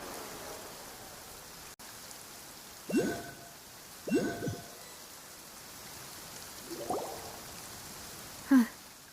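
Steady rain falls in Genshin Impact's Fontaine region as a constant soft hiss, with a few brief tonal blips rising over it.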